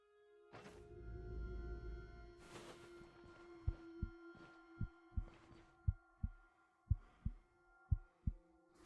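A looping heartbeat inside a dungeon in the video game Stoneshard: after a low rumbling swell, a steady series of soft, low double thumps repeats about every half second to second, over a faint sustained ambient hum.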